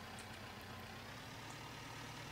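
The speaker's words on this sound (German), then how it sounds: "So, machen wir Motor an hier." A Fortschritt E 282 forage harvester's engine runs at a steady, low drone in the Landwirtschafts Simulator 15 farming game, constant and without talk.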